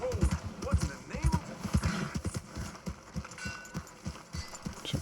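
Horse hooves clip-clop at a steady riding pace in the Red Dead Redemption 2 video game, repeating rhythmically throughout with game ambience and someone talking over them.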